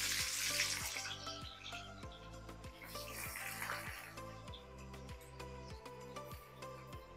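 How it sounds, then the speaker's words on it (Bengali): Sliced onions frying in hot oil for chicken biryani, a continuous close sizzle with sharp crackles, strongest at the start and easing slightly, with regular faint ticking underneath and no speech. "আমি আস্তে আস্তে পেঁয়াজগুলো দিয়ে দিচ্ছি।"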